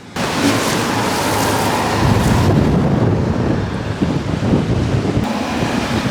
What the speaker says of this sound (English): All day the wind's been blowing from behind me